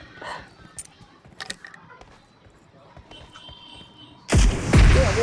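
A heavy bomb explosion in an online shooting game hits near the end as a loud, deep booming burst, preceded by scattered lighter game clicks and thuds with quiet background.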